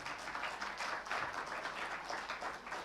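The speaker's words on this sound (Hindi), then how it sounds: "एक बार हमारे राजेश भाई के लिए भी जोरदार तालियां।" Audience applause at a full-day seminar in a Crowne Plaza hotel ballroom: steady, dense clapping from a sizeable crowd that carries evenly through the whole stretch, with no talking over it.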